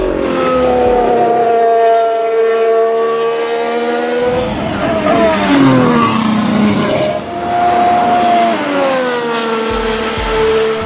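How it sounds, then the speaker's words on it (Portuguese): A current Formula 1 car with a V6 hybrid engine screams through rising revs and gear changes. The loud, close tonal whine sweeps upward repeatedly, with a brief drop in the middle before climbing again. "Então vamos começar com os carros atuais, com o motor V6 híbrido."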